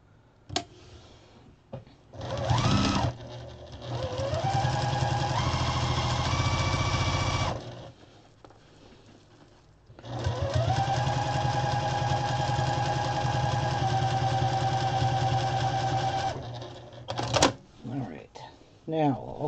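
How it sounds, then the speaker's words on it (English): Sewing machine top stitching a chicken-shaped pot holder, two long runs of steady motor whirring with clicks at the starts and stops, close up, with a quiet pause between runs. "Let's top stitch this."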